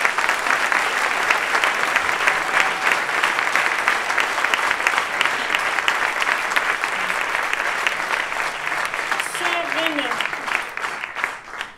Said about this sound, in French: et applaudissez-la s'il vous plaît.